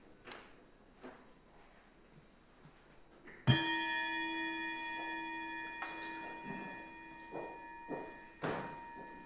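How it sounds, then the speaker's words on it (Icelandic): A council chamber bell is struck once and rings out with a long, ringing tone that slowly decays over several seconds, with faint room noise and scattered soft knocks around it. "Já, það er hin bjallan, það er rétt."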